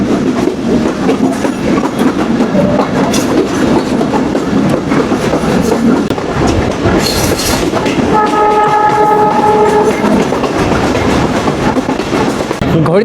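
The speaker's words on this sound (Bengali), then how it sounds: "আমরা যশোরের নোয়াপাড়া রেলওয়ে স্টেশনে প্রবেশ করছি।" A Mongla commuter train rolls into Noapara railway station in Jessore, a steady loud rumble of wheels and carriages with a sustained horn blast sounding partway through.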